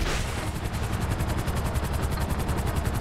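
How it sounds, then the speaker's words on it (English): Three large helicopters close in with a dense, continuous rotor roar and steady rapid chopping pulses, loud and unbroken, with no voices. "Three serious-looking choppers!"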